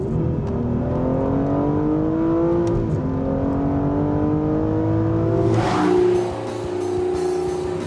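An Aston Martin V12 Vantage S engine revs and accelerates with a rising exhaust roar, then swells louder and drops back to a steady drone, close and without speech.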